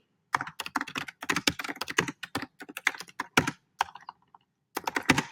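Fast typing of a name on a Mac computer keyboard: a close, crisp run of rapid key clicks in uneven bursts, a short pause, then a final cluster of taps.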